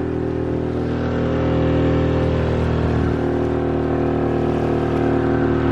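A small outboard motor on a little boat drones steadily and close while the boat drifts quickly down a river, with an even, unbroken hum and no talk.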